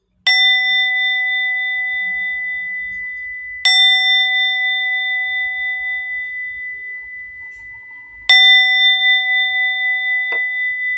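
A small bell is struck three times to cleanse a sacred space, each clear metallic ding ringing out and slowly decaying, the third strike louder and followed by a brief extra tap.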